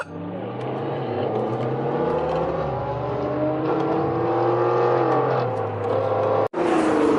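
A Nissan GT-R at a Bakersfield car meet, its engine droning and revving up and down in a steady, fairly close rumble, with a sharp break near the end.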